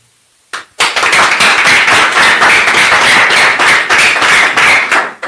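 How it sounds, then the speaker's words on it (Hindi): Loud, close applause from a group of people, fast overlapping claps in a steady burst that starts suddenly and continues for about five seconds. "ताली पीट रहे"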